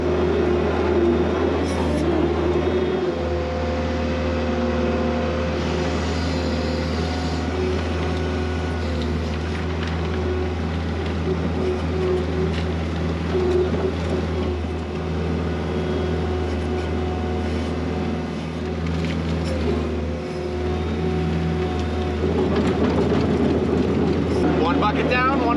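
Skid steer engine running steadily while moving silage on a cattle farm, a continuous loud mechanical drone with a low rumble throughout, heard up close.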